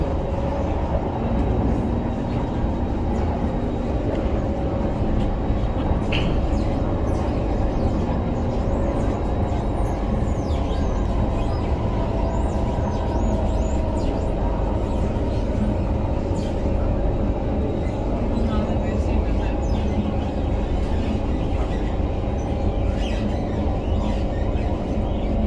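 A Singapore MRT train ride between Aljunied and Bugis, with steady loud rumbling and rolling noise filling the carriage throughout, faint murmurs from passengers underneath.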